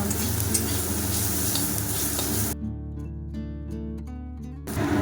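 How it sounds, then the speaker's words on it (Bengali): Greens (saag) frying in a pan at home, a loud steady sizzle with stirring scrapes that cuts out partway, leaving a ringing tone before the sizzle resumes at the end. "আর একটু জাস্ট অল্প একটু নাড়াচাড়া করে শাকটা নামিয়ে নেবো"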